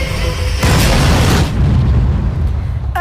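A deep, heavy film explosion from Jurassic Revival bursts out and rolls on as a sustained low rumble, loud and close, fading only slightly.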